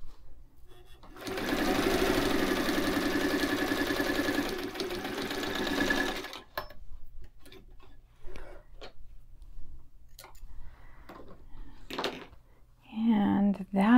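A White 173 sewing machine hums steadily for about five seconds while stitching a 90-degree corner. After it stops, a few quiet handling sounds follow, then a person speaks briefly.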